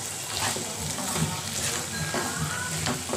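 Okra with onion and tomato sizzles steadily in a frying pan while being stirred, a continuous close hiss with soft scraping strokes throughout and no talking.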